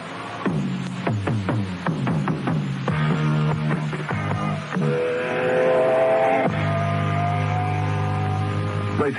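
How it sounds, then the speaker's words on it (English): Racing cars open a Saturday evening radio show, loud engines roaring and revving with passing whines and sweeping pitch changes, rising into sustained high revs toward the end, with no talk over them. "Racing cars starting the programme off on Saturday evening from Caroline"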